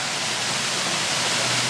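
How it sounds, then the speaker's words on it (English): Waterfall beside river rapids roaring in a dense, continuous rush of falling water, close and loud with no breaks. "we finished the mac and cheese near this waterfall, which happens to be near the rapids."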